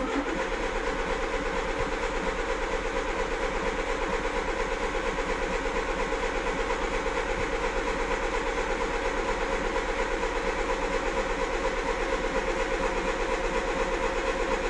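A 1999 VW Lupo with a 1.0 MPI petrol engine cranks without starting, the starter churning in a loud, steady, unbroken drone that runs close and continuous with no talk over it.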